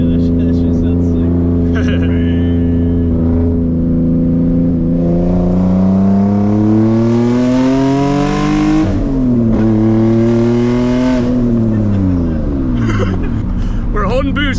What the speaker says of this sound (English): But I'm going full throttle.